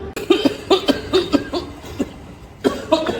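Repeated wet, phlegmy coughing as a pneumonia symptom, about eight harsh bursts in a quick irregular series with a short pause before a final cluster, close and fairly loud with no talking.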